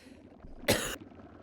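A person gives one short, harsh cough close by, rising out of a quiet indoor background with no talk.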